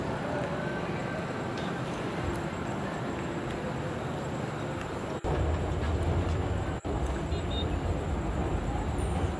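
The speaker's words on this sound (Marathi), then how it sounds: "हे बघा, तुम्हाला दिसेल ही मेट्रो आहे" An underground metro train in Pune runs with a loud, steady low rumble and rushing roar, close and continuous, with a couple of brief sharp clicks partway through.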